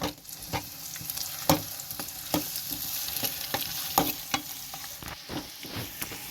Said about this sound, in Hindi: लहसुन अदरक का पेस्ट था वो भी फ्राई हो गए हैं